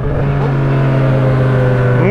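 A Yamaha MT-09 motorcycle engine hums loudly and steadily up close, its pitch rising near the end as it revs, with faint rider speech mixed in.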